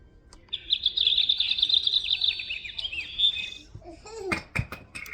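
A child whistles and squeaks a chirpy birdcall imitation, a warbling high tweet held for a few seconds, then brief noisy clatter and a short voiced sound close to the mic.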